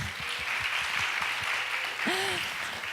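Applause fills a church hall during a Friday worship service, a steady broad wash of clapping lasting throughout, with a brief voice cutting in near the end.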